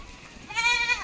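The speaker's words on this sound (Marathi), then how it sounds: "बकऱ्या पण आहेत त्याच्यात." A goat in a passing village herd of sheep and goats gives a single clear bleat, rising out of quiet morning background noise.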